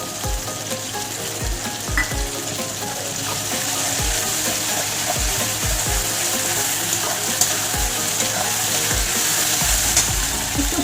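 Ginger and garlic paste sizzles and fries in a pan, with a steady, loud hiss broken by the scrape and clatter of stirring throughout.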